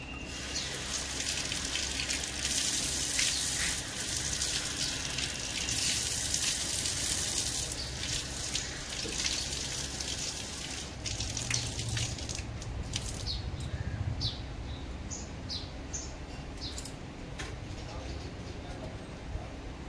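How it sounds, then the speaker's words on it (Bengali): Running tap water splashes over hands being washed at a sink after sweeping, a steady close hiss and patter with someone talking over it throughout. "এবারে হাতটা ধুয়ে নিই।"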